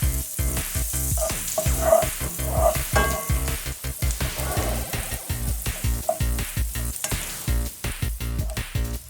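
Vegetables for red beans and rice sauté in a pan with a close, crackling sizzle. Frequent stirring scrapes and clanks cut through it, and a few bubbling pops come early on. No one speaks.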